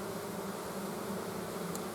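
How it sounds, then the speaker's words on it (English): Bees swarm around a comb being torn from their hive, a dense continuous buzz filling the whole stretch at steady loudness with no talk. "Yeah, these are my comb bees."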